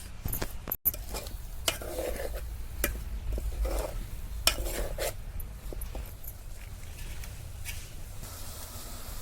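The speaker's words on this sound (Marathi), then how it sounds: "सगळं सारण असं मिक्स करून घेणार आहोत" A fresh coconut karanji filling is mixed by hand in a bowl, with soft scraping and intermittent light spoon clinks at an uneven pace over a low, quiet background.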